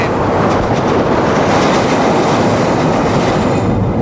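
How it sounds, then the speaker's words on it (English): Chicago's elevated L train rolling past, a loud, steady roar of wheels and cars filling the whole stretch at close range, with no voices. "Ah, Chicago's famous L train."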